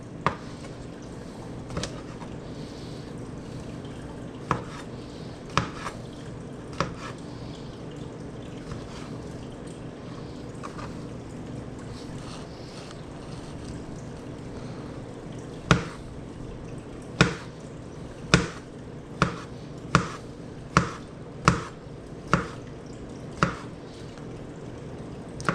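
A knife slices mushrooms on a cutting board, sharp distinct chops scattered at first, then a steady run of evenly spaced cuts near the end, over a quiet background.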